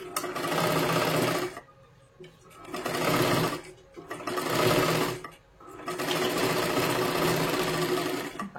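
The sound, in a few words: sewing machine stitching katori blouse double seam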